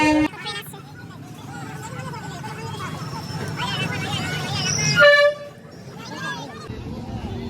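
Traffic jam at a closed railway level crossing, with a crowd murmuring throughout and vehicle horns and a train faintly present, and one loud horn blast around the middle before the noise drops back to background hubbub.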